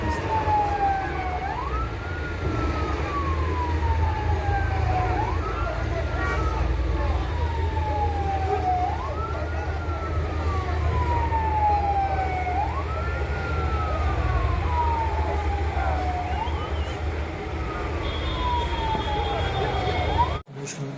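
Fire engine sirens wailing at a burning restaurant in Dushanbe, a loud, close, repeating rise-and-fall cycle over a low traffic rumble, sounding steadily until cutting off right at the end.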